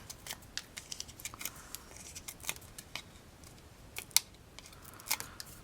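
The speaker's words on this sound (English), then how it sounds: "And then peel off the little sticky." Small crisp crackles and ticks as the backing is peeled off adhesive pop dots while making a flap card, faint and close, scattered irregularly through a quiet room with no talking.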